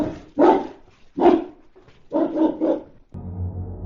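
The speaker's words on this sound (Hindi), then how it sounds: "इस कुत्ते के खूंखार रूप से गुर्राने और भौंकने की आवाज आने लगी" A pet dog in a nearby room at night barks fiercely and growls in four loud, close bursts with short pauses, followed by a low sustained drone.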